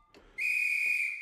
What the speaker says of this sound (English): These are all like whistles, train whistles